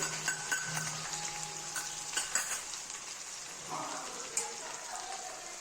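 Garlic sizzles softly in hot oil, a faint steady crackle with a few light clicks from stirring.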